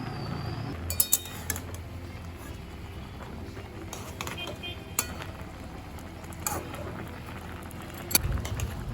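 A lid comes off a pot of bottle gourd leaf curry with greens, stalks and potatoes cooked over medium-high flame, bringing a few metallic clinks and clatters over a low bubbling simmer.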